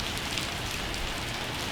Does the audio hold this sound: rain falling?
yes